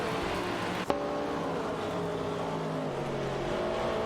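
Race car engines of a Ford Falcon and a Porsche 906 in a racing video game, a steady close drone with rising and falling engine tones and one sharp click early on, no voices.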